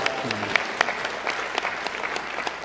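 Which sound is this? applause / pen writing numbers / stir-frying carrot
applause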